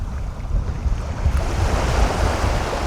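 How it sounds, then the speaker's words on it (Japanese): Gentle, slow waves wash onto a shallow, clear-water beach on Toyama Bay, a continuous close rush of surf with some wind noise and no talking. "このゆっくりとした波音を聞きながら朝ごはん食べたら最高ですよね"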